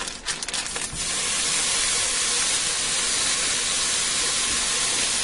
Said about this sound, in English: I'm going to add a pound of 80/20 ground beef in here and I'm going to brown this up and chop it up